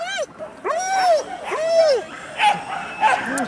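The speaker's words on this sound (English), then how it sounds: "Hey, good dog." A dog vocalizing outdoors at an event in Zonhoven, giving a series of drawn-out whining yips and barks, loud and close, with people talking nearby.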